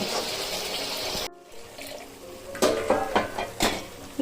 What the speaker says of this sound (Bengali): আমি এটাতে গরম জল দেব গরম জল দিলে পরে কিন্তু রান্নার টেস্ট বাড়ে